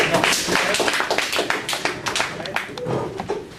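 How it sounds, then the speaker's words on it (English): A small audience claps for a presenter at a talk on revision control, with scattered, uneven hand claps lasting a few seconds and some voices mixed in. "A round of applause for him."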